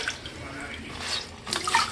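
A cloth being soaked and wrung in hot water for a shave, splashing and trickling water with a louder burst of dripping near the end.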